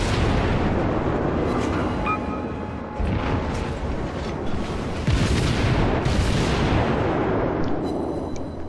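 Naval guns on a World of Warships cruiser fire at an enemy ship, sending repeated heavy booms that roll over a constant rumbling roar, with several sharp salvos spread through the passage.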